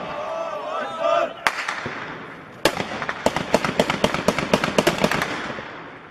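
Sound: gunfire from a sniper during frontline clashes in Syria

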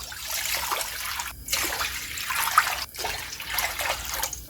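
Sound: pouring water into a pot for anchovy broth

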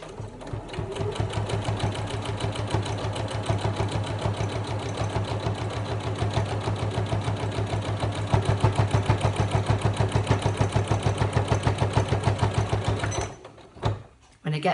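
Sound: sewing machine stitching fabric notebook cover

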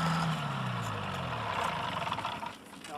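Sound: engine idling

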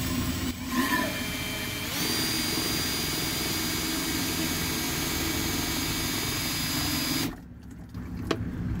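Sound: homemade high volume transfer pump running

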